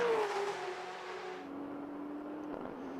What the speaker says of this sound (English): A very different soundtrack that the 6-cylinder Porsche gives out compared to the V8 engine Brabham